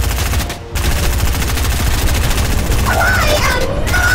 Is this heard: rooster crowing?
no